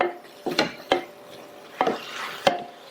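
Spinach being sautéed and stirred in a pan for a lunch-box rice dish: several distinct scraping clinks of a utensil against the pan, spaced irregularly, close and fairly crisp with quiet pauses between.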